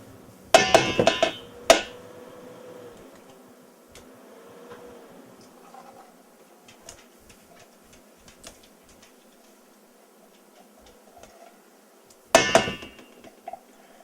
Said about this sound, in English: So I do like to scrape as much of it out since I am 1 ounce shy.